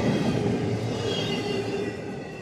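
Freight train I-128 rolls northbound on the Henderson Subdivision near Nortonville, Kentucky. It makes a loud, steady rumble of wheels and cars passing close by, with no voices.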